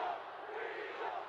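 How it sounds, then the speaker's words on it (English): A wrestling arena crowd chanting "weasel", a broad, distant roar of many voices rising and swelling together, faint and continuous throughout. "Weasel chant."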